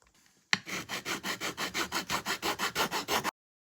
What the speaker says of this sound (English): I'm probably going to use a file initially just to take the edging off